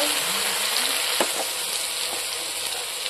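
Ground spice pastes of onion, green chilli, cumin and garlic frying in a pan as they are mixed, a continuous close hiss and sizzle with a few soft scraping strokes, steady and alone without talking.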